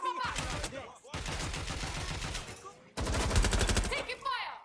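Rapid automatic gunfire in Watch Dogs Legion, dense bursts of close shots in three stretches separated by brief gaps, loud and sustained, with game characters shouting in between.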